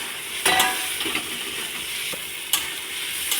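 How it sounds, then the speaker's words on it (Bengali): Soybean chunks and potatoes fry in spiced oil with a steady loud sizzle, while a utensil scrapes and stirs the pan in a few distinct strokes. "এবার আমি সোয়াবিন আর আলুটা দিয়ে দেব।"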